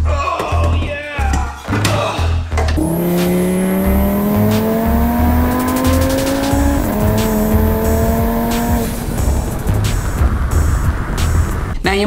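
A sheriff's car passes on the road, its engine note rising loud and close before settling and shifting pitch, over constant rumbling road noise.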